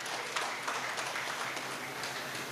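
Audience applause at a youth association's talent award ceremony, a steady wash of crowd clapping that fills the whole stretch at an even level, with no talk over it.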